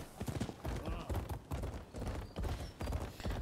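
A horse's hooves clip-clop at a steady walking rhythm in the video game Rise of the Ronin, soft and fairly close, with faint ambient sound around them.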